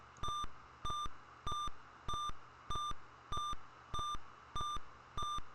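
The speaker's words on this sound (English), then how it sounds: "every time it starts doing that beeping thing, it really makes me want to move fast so I don't have to listen to it anymore" An electronic alert in the video game The Crimson Diamond beeps nine times at an even, quick pace, each tone sharp and bright, repeating alone without any talk over it.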